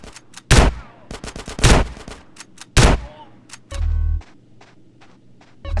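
Bursts of gunfire in GTA San Andreas during the Reuniting the Families mission in Los Santos, with loud close shots and rapid volleys interspersed with quieter pops and a short rumble, with no talk.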